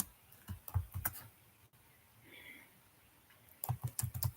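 Fingers type on a computer keyboard in two quick bursts of close, crisp key clicks separated by a short pause, with no talking.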